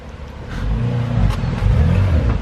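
A 2007 Porsche 911 Turbo rolls up nearby, its engine giving a low, steady rumble with slight revving and building loudness.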